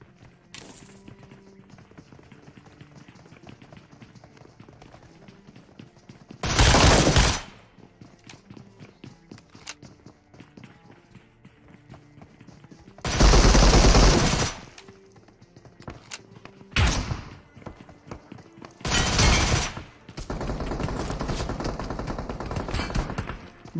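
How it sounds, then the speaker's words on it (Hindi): Gunfire from a battle royale video game, with Scorpion submachine gun bursts and shotgun blasts arriving in several loud, separate volleys. Quieter game footsteps and movement fill the gaps between shots. "यहाँ पे बैक टू बैक दो ऑटो गन वाले और एक शॉर्ट गन वाले को स्कॉर्पियन से नॉक करने के बाद"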